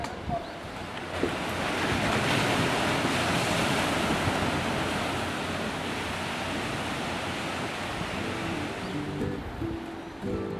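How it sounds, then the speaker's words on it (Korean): Ocean waves wash steadily onto the rocky shore of Dongbaekseom island in Busan, a dense continuous roar of surf with wind, loud and close, no voices, lasting throughout. "파도 소리가 눈과 귀를 즐겁게 하는 곳, 동백섬."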